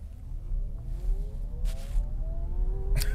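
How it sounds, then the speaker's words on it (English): A 2022 Chevrolet Bolt EUV electric car accelerating hard in race mode, its motor whine rising steadily in pitch over a low road rumble, with no talking. "I'm going to test the acceleration with the Bolt EUV."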